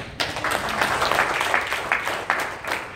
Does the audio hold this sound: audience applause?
yes